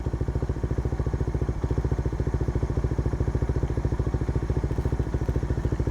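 A Suzuki Raider R150 FI motorcycle engine runs on its center stand with no load, a steady rapid mechanical pulsing close up and loud, holding an even rhythm throughout.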